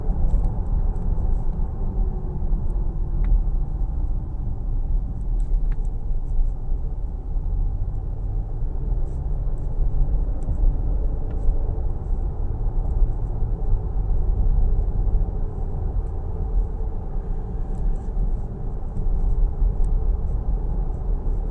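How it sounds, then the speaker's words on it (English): Steady low tire roar from off-road tires on a 2023 Nissan Pathfinder Rock Creek cruising on the road, a constant broadband rumble that stays even and fairly loud throughout with no talk. "the biggest thing is just the road noise at this point from these off-road tires"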